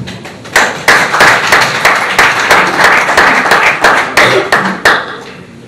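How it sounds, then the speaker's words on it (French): Applause from an audience at a political party training ceremony, loud and close, with sustained hand clapping and distinct sharp claps rising through a steady wash. "Nous les acclamons."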